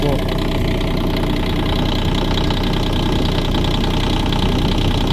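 Kubota 1-ton mini excavator engine running at a steady idle, a continuous close-up diesel rumble with a faint knocking texture and no clear start-up burst.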